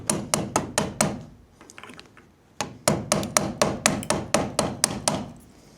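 Sharp hammer taps striking a fixture to loosen a broken light bulb during a barn electrical install, two quick bursts of evenly spaced metallic knocks separated by a short quiet gap, close and loud.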